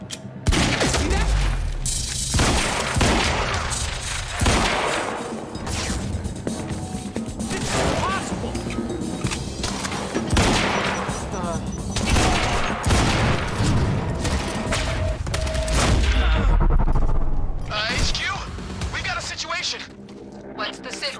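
Dense gunfire bursts from the shooter game Quantum Break, loud and continuous, with explosive crashes mixed in and voices talking over the shooting throughout.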